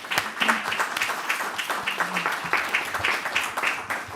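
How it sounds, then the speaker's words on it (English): An audience claps steadily in a room, a few seconds of continuous, moderately loud applause. "just big applause for the panelists"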